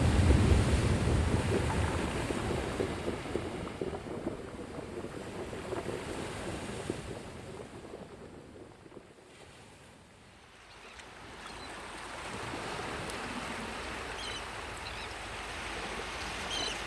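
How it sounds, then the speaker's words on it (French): Gentle waves of a calm sea slide onto a sandy shore, a steady soft wash with a wind-like hiss that dips briefly midway and then swells back, with no voices present. "le doux bruit des vagues d'une mer calme, glissant sur le sable"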